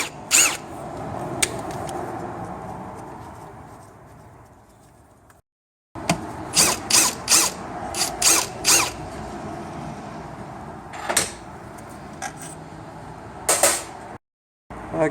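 A ratchet loosens the valve body bolts on a 6L50 automatic transmission, giving faint creaks and then clustered bursts of sharp clicking that stop and restart, with a quiet mechanical background throughout.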